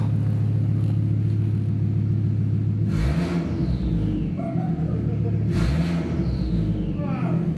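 Volvo S60 with a straight-through exhaust revving, a chuggy idle rumble broken by two sharp throttle blips that rise and fall back, loud and close, with no talk over the engine.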